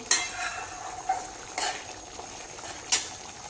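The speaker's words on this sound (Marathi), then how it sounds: "आता इथे मी वरून कसुरी मेथी घालते आणि छान असं मिक्स करून घेते।" Kasuri methi is stirred into a dahi aloo curry in a pan: a few brief scraping strokes of a spoon, spaced apart over a soft, constant background hiss.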